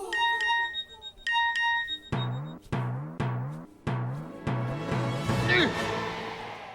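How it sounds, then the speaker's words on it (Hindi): A short phone message notification chime rings out clearly in a tense drama scene, followed by a series of sharp struck musical hits with ringing decays. "मैसेज आया है।"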